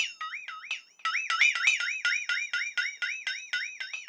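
A flexatone is shaken in quick bursts, giving a bright metallic warbling wobble that swoops up and down in rapid pulses, loud and close, with no talking.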